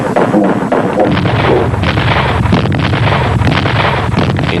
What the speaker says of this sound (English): the pounding of artillery and the pounding of mortar shells